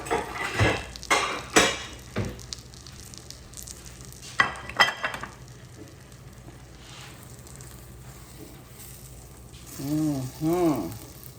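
A buttered bun toasts in a pan for a Philly cheese steak, giving a low, steady sizzle broken by clinks and scrapes of utensils and cookware, with a few spoken words near the end.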